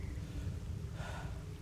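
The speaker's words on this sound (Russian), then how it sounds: "Уже, видите, потихоньку дождик начал капать." Light rain beginning to fall in the video game S.T.A.L.K.E.R. Misery 2.0, a soft steady patter over a low ambient rumble, faint and unbroken.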